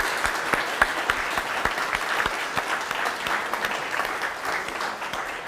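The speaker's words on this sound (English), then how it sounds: "can we give the candidates a very nice round of applause?" An audience at a probate court judge candidate forum in Oceana County gives the candidates a round of applause: even, moderately loud clapping from a modest room of people, continuing steadily throughout.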